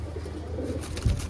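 Pigeons of a black gola breed kept at a home loft in Bangladesh coo softly, a low murmuring coo with one louder throaty burst near the end, against quiet background noise.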